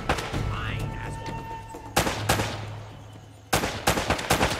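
Gunshots in the game Uncharted: Drake's Fortune, with sharp loud cracks and rattling bursts in several clusters, echoing between volleys over low background game sound.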